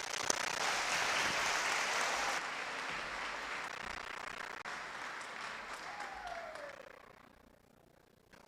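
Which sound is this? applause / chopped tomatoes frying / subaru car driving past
applause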